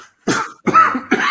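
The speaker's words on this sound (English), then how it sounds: "He's got the cough now" Several harsh coughs from a man indoors, three close bursts separated by brief pauses, loud and alone with no speech over them.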